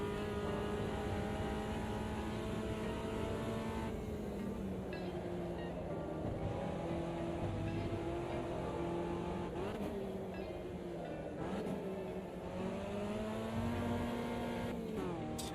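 Race car engines in the sim racing game Automobilista 2, including a Puma, drone steadily and loudly throughout, their pitch rising and falling through gear changes and acceleration with no talk over them.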